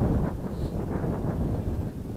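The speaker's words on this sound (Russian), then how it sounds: "Ой, ветрило такое задувает." Strong wind blows at a riverbank during fishing on the Oka, a steady low rumbling gust of microphone buffeting, loud and continuous with no talk.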